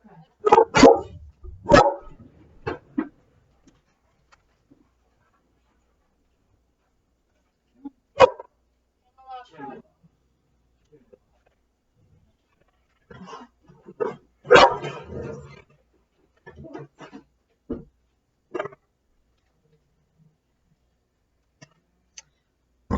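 Dog barking indoors: sharp, close barks in short bursts, with a cluster at the start, a single bark partway through and another flurry later, separated by quiet stretches and some faint background activity.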